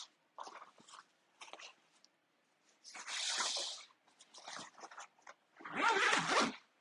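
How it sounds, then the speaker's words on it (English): A zipper on a packable daypack being zipped closed, with two long, loud zipping strokes between softer rustling and handling of the fabric, close up. "the bag zips up just like that"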